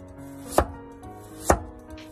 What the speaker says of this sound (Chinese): 然后再改刀切成厚厚的薄片子，尽量稍微切得薄一些